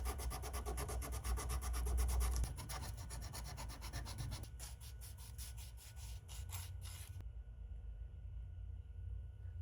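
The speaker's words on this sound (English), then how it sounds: "I filed down the excess resin and sanded the whole lure to 300 grit" Rhythmic strokes rasp against a resin fishing lure while it is filed and sanded to 300 grit, steady and close, with no voices.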